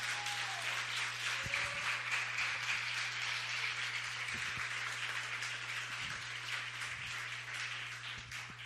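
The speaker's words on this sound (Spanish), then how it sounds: "denle un aplauso al Señor." A church congregation claps during a sermon, with a steady wash of applause lasting several seconds under a constant low hum, fading slightly at the end.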